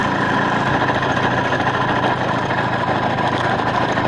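An Izh Planeta 5 motorcycle riding in second gear, its engine running with a steady droning rumble and constant vibration, loud and close throughout with no voices.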